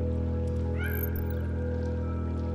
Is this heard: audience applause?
no